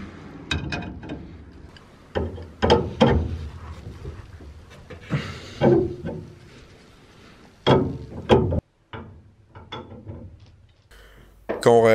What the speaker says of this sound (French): je desserre et serre pour chercher la hauteur souhaitée